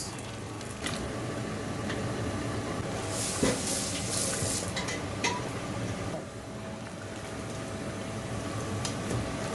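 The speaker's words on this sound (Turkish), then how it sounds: "Şimdi sosunu ilave yapıyoruz." Sauce being poured into a big pot of boiling dried beans, cooked for a hundred people, making a steady, close hissing and sloshing wash with a few brief louder splashes and no talk.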